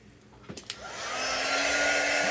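A hair dryer is switched on to dry a freshly painted black-cat chalk craft piece, a few clicks and then a rising steady whoosh with a motor whine, close and loud.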